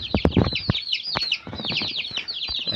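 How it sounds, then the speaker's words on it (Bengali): Broiler chicken chicks cheep in a dense, high-pitched chorus of rapid overlapping peeps, close and continuous, with soft rustling and scuffing beneath. "এই যে দেখেন মুরগির বাচ্চা, ব্রয়লার মুরগির বাচ্চা"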